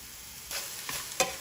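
Lean meat browning in a pan with salt, pepper and cumin for a breakfast burrito, a quiet sizzle with three soft stirring scrapes in quick succession and no speech.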